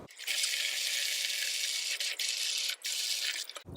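Water leaking from a DIY rainwater collection urn: a steady, hissing trickle of running water that continues nearly unbroken for several seconds, with a few brief dips and faint clinks.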